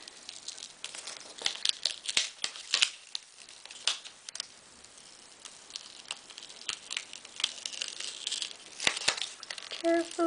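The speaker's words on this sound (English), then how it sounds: "I didn't mean to adhere this down quite yet, so I'm going to peel it off" Adhesive paper being carefully peeled off a handmade robot birthday card, giving faint, irregular crinkles and sticky tearing ticks, close and quiet.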